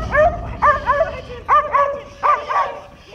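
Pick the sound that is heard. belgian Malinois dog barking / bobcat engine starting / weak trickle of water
belgian Malinois dog barking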